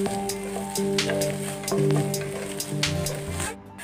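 Rice roasting in ghee in a pan over a low flame makes a faint, crackling sizzle with scattered ticks, set beneath steady tonal background music.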